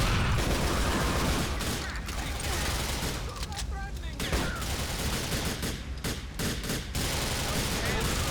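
Sustained gunfire in GTA IV: The Lost and Damned, rapid overlapping shots and blasts filling the clip at an even level, with short gaps near the middle and a voice speaking over the din.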